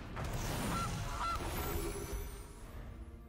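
A goose card in Magic Arena lets out two short honks in quick succession, set over a dense, busy background of game sound.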